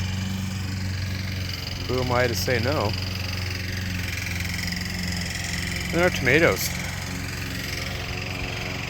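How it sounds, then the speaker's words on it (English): A lawn mower engine drones steadily nearby in a home garden by a tomato bed, a constant mid-pitched hum running underneath a person talking. "Sorry for the lawnmower."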